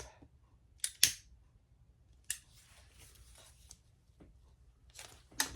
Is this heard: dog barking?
no